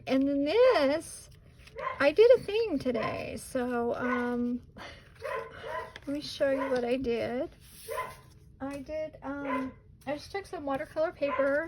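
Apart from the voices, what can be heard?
dog barking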